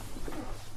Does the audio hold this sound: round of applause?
no